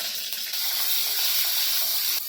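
Curry leaves hit a hot pan and set off a bright, steady hiss of oil that is sudden at the start and holds evenly for about two seconds before cutting off, with no talk.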